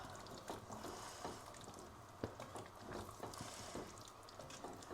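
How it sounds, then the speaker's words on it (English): Mushrooms and shallots being stirred in a pot for beef bourguignon, giving a quiet, steady sizzle with soft scraping and scattered small clicks throughout. "Mushrooms in and shallots. And then I'm just going to give that a stir."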